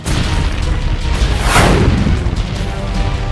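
A single deep, powerful boom from roughly 200 kg of explosives detonating at a quarry, loud and broad, rolling on as a sustained rumble after the blast.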